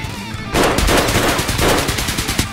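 Shotgun fire in the combat video game Escape from Tarkov, a loud burst of rapid successive blasts starting abruptly and continuing in quick repeated shots.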